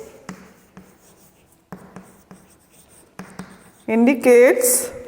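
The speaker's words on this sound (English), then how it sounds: "Now here I am going to write" Chalk or marker scratching across a classroom board in short separate strokes, with a teacher talking over part of it during an English lesson.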